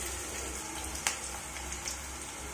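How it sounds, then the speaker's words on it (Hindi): Onion pakoras sizzle in hot oil with a soft, steady crackle and the occasional sharp pop, close and fairly quiet, with no talking. "इस तरीके से सारे प्याज के पकौड़े फ्राई कर लेंगे"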